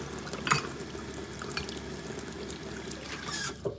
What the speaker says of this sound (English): so let's get some water in the sink.